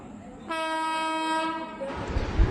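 A Konkan Express train sounds a long, loud, steady horn blast as it pulls into a station platform, followed by the rumble of the arriving carriages.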